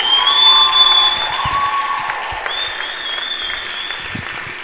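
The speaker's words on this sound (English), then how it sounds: "please give a round of applause to head coach Lisa Stuck and her 500 career victories" Applause and cheering in a college volleyball gym honour a head coach's 500th career win, mixed with sustained whistle-like tones and scattered shouts, fading a little after the opening second.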